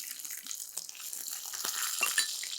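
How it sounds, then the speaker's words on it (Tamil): Mustard seeds sizzle and crackle in hot oil in a pan, a soft, steady hiss with faint pops close by. "இப்போ கடுகு போட்டிருக்கேன்."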